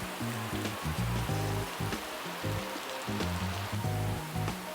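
Heavy rain at a farm and resort in Samar pours down as a steady, dense wash of hiss throughout, with a low tonal hum running beneath it.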